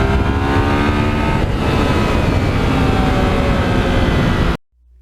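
A Yamaha MT-09 motorcycle engine drones loudly and steadily while riding on an open road, with strong wind rush over it, before cutting off abruptly near the end.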